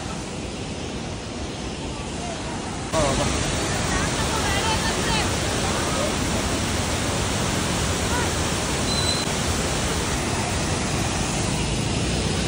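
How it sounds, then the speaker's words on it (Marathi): A waterfall in Kerala roars in a continuous, loud rushing wash of water that grows fuller after a few seconds. "आणि आला आता धबधबा धबाधब बघा चालू वॉटरफॉल"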